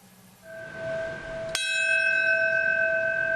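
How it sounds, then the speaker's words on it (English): A church bell tolls once, loud and near, at a 9/11 commemoration; the stroke rings out and its tone hangs in a long, sustained decay over a faint hum. "the toll of the bell was for the moment the North Tower fell"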